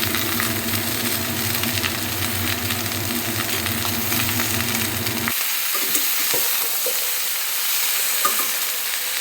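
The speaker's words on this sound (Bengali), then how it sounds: "সমস্ত সবজিগুলো আমি ভালো করে নাড়াচাড়া করে অল্প মাঝারি করে ভাজবো" Mixed vegetables for shukto being stirred and fried in a pan give a steady, close sizzle with stirring scrapes; the low rumble drops away partway through, leaving a lighter crackle.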